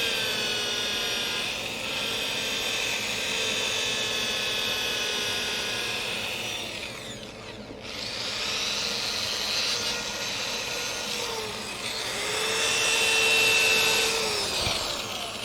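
A wooden plate spinning on a woodturning lathe while being sanded with 320-grit paper, a steady whirring drone with shifting scratchy tones, close and continuous with a brief dip midway.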